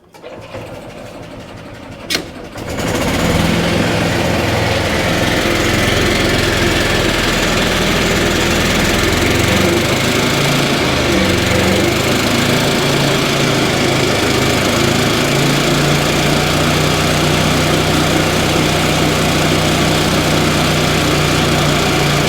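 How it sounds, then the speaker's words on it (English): A golf cart engine starts up and then runs steadily at a loud, close idle with a continuous buzzing drone that carries on to the end, with no talking. "let's just run her real quick, make sure she's not smoking"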